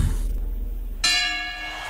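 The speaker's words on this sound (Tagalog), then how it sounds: "Tumunog na ang bell!" A single bright ring of a boxing match bell struck once, clear and close with a sustained shimmering decay, following a short stretch of quiet room tone.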